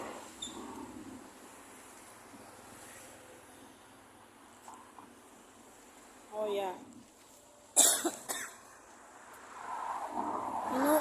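A few short coughs and throat clearings break through quiet background ambience while waiting at a stoplight in Abu Dhabi, with someone speaking faintly between them.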